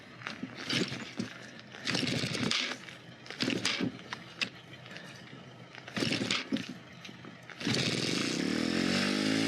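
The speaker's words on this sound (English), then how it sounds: "And the engine started." An abandoned motorcycle engine cranks in several rough bursts, sputtering and catching intermittently, then settles into a loud continuous running roar near the end.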